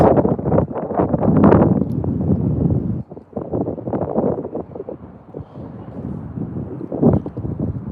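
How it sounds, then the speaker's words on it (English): Strong gusty wind buffets the microphone in loud, uneven rushes, easing briefly before surging again. "The wind is picking up."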